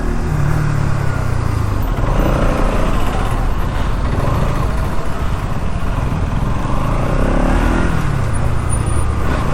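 A 2026 Bajaj Pulsar NS200 (E20) motorcycle being ridden, its engine droning steadily with shifts in pitch as it accelerates, under heavy wind rush and without talk.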